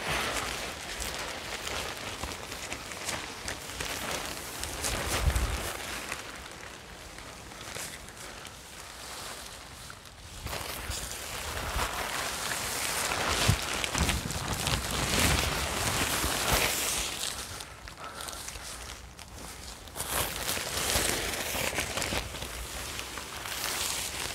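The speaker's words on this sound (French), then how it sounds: "Alors ça c'est le vent." Gusty wind blows outdoors around a tent and tarp, rising and falling in long surges with a rough, rustling roar and occasional flapping, steady and moderately loud throughout.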